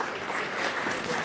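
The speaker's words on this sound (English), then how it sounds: "Another round of applause for these panelists." A conference audience gives panelists a round of applause, with continuous, full clapping at steady loudness and no speech over it.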